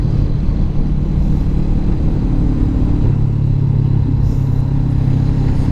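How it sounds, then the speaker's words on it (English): A deep, steady exhaust rumble from a 2022 Honda CBR500R motorcycle with a Yoshimura exhaust fills the clip, loud and close, with a slight shift in pitch partway through as the engine note changes. "I love the sound of this Yoshimura exhaust."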